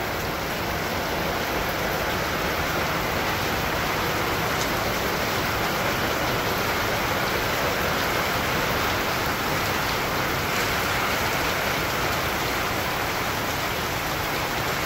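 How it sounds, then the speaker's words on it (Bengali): Heavy rain falls steadily and loudly, a dense continuous hiss of drops on surfaces with no pauses, close and enveloping throughout. "এত জোরে বৃষ্টি হয়ে যাচ্ছে"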